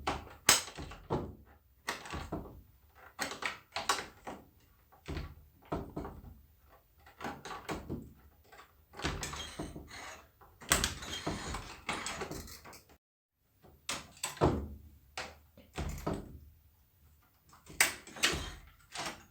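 A door lock is worked open with a knife, producing a series of irregular clicks, taps, scrapes and thunks of metal against the latch, close and sharp with quiet gaps between bursts.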